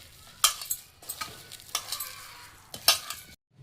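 Spinach pakoda batter being mixed with water by hand in a bowl, giving a few wet squelching stirs and soft scraping knocks in short bursts, close and fairly quiet, with no talking.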